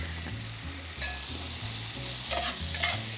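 Salted leeks sautéing in a hot pan make a continuous close sizzle, with a few light stirring clinks and scrapes near the end.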